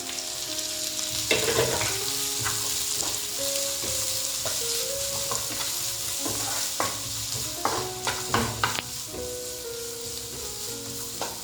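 Onions go into a pan of browning masala for paneer butter masala and fry with a constant soft sizzle, while a spoon scrapes and clinks against the pan in irregular bursts that grow busier toward the end; no one speaks.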